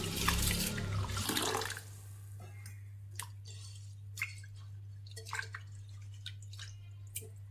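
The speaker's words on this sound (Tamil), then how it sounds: "இதேமாரி நல்லா பிசைஞ்சு கழுவி எடுக்கலாம்." Soaked rice kneaded and rinsed in water for dosa batter, giving a splashy wet squish for under two seconds, then sparse, faint drips and small water sounds over a steady low hum.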